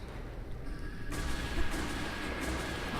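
A Lynel from a Zelda game slams its weapon into the ground, setting off a loud, broad explosive blast that hits suddenly and keeps rumbling with crackling noise for a few seconds.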